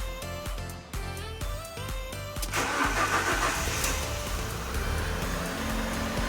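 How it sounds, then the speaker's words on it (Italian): A Fiat Barchetta engine cranks briefly and catches on the first try, then settles into a steady, loud idle close by. "La nostra Fiat Barchetta parte al primo colpo."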